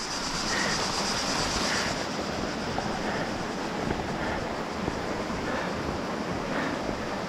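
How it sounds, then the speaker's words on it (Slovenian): Water flows steadily near the source of a river, a constant rushing wash with wind noise buffeting the microphone outdoors. It is loud and unbroken, with no talk. "Tle voda še teče"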